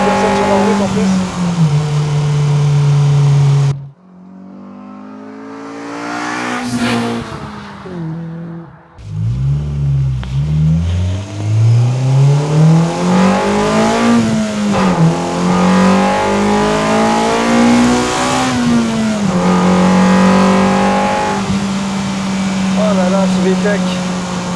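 A Honda Civic's VTEC engine revs up and down while driving on an empty road, loud and close, with engine tone rising and falling through the gears and a brief drop between shifts, with talk over parts of it.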